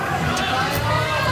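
Crowd at a World Series of Bowling USA vs The World event cheering for bowler Kyle Sherman, a steady dense roar of voices and chatter filling the whole moment without a break.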